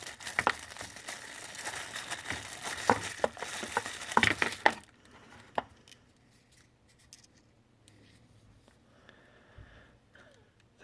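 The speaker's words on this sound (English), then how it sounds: "It's in a plastic bag, so let's see if I can get that off real quick." Plastic bag torn and crinkled off a new NewBeeDrone Hummingbird, a dense rustle for about five seconds, then sparse quieter crinkles and taps close to the mic.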